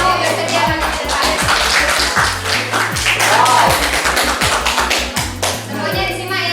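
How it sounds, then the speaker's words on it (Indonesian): Pupils in a geography lesson clap for classmates volunteering to come to the front, a dense, steady patter of many hands running the whole time, with some children's voices mixed in. "Kita beri tepuk tangan dulu untuk yang mau bersedia maju ke depan."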